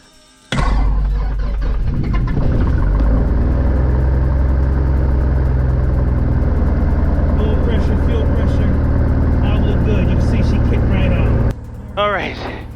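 A small airplane's piston engine is started on a cold day: it catches abruptly, then holds a loud, steady idle with voices talking over it, before dropping to a lower idle near the end.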